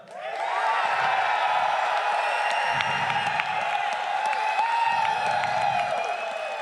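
Sustained applause from an audience at the Killer Instinct World Cup 2017 esports awards, steady clapping that fills the space for several seconds and continues to the end.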